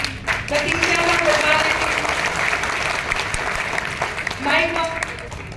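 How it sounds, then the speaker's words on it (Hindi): An audience at a Hindi poetry recital breaks into loud, dense clapping that swells and holds for several seconds, with a voice audible over it. "एक बार और थोड़ा सा घनीभूत हो तालियां"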